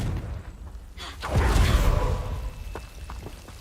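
The Confringo blast spell is cast in the video game Hogwarts Legacy: a quick whoosh builds into a loud, fiery burst that fades, followed by a few faint ticks.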